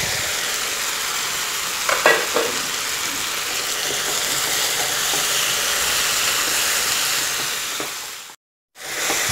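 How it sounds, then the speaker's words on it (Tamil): Sundakkai (turkey berry) halves frying with tomato and onion for a kootu, giving a steady close sizzle and hiss throughout, with a few soft stirring knocks and a brief drop to near silence near the end. "சுண்டக்காய் நல்லா வதங்கிட்டு இருக்கு."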